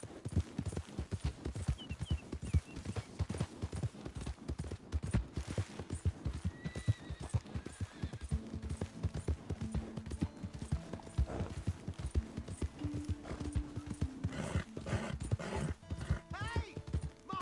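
Horse hooves pound in a fast galloping rhythm in the Western video game Red Dead Redemption 2, with a horse whinnying and people talking and shouting over the hoofbeats.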